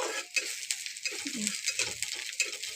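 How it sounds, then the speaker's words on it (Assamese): Onions fry in a pan in a soft, fairly quiet sizzle, with a spatula scraping and clinking against the pan in short strokes. "পিঁয়াজটো ৰঙচুৱা কৰালৈ ভাজি"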